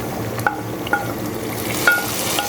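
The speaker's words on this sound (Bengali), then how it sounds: "এখন এটা আমি সাইডে রেখে গোস্তের উপর আমি এই বাগারটা দিয়ে দিব" Hot oil with fried onion tempering is poured over cooked meat and sizzles loudly and steadily, with a few clinks of a utensil against the pan.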